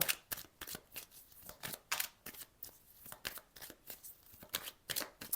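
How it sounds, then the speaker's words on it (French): Tarot cards are handled, shuffled and laid down in a rapid series of crisp, papery flicks and snaps, close and fairly quiet, with no talking. "On va juste recouvrir une fois ces cartes."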